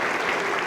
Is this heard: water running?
no